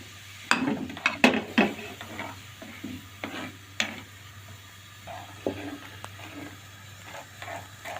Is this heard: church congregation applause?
no